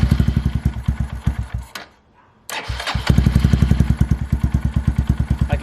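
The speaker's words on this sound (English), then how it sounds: "let's go ahead and give the bike its first little start with the Yosh pipe" A 2022 Honda Grom fitted with a Yoshimura RS-9T race exhaust idles with a rapid, even thumping pulse, cuts out briefly, then restarts and settles back into a loud, close, throbbing idle.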